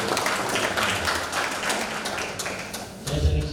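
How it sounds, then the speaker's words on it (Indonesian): Crowd applause at a university graduation ceremony, a continuous wash of many hands clapping in a large hall that carries on steadily before a low thump near the end. "Tepuk tangan."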